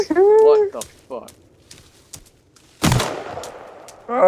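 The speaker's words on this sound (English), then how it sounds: "Shotguns are useless. Apparently, I shot you right in the face." Shotgun blasts in the game Sons of the Forest, a sharp loud shot with a decaying tail near the three-second mark, set among brief voices and clicks at the start and end.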